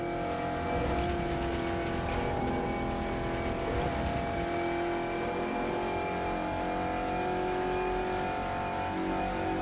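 A Panoz Esperante GTR-1 race car with a 6-liter V8 engine roars continuously and loudly, a dense, steady engine note with shifting harmonics and no talk over it.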